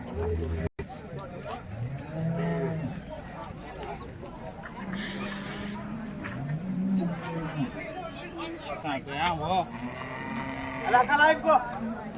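Cattle moo repeatedly at the Bagalur cow market near Hosur, several long, low calls from animals near and farther off, amid crowd chatter and people talking throughout.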